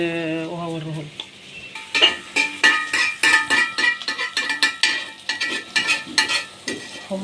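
Onion fries in a pan under brisk stirring, a spoon clinking and scraping against the metal in quick repeated strokes over a soft sizzle, following a short tonal sound at the start.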